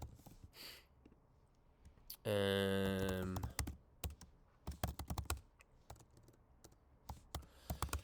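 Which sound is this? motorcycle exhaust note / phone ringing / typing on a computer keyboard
typing on a computer keyboard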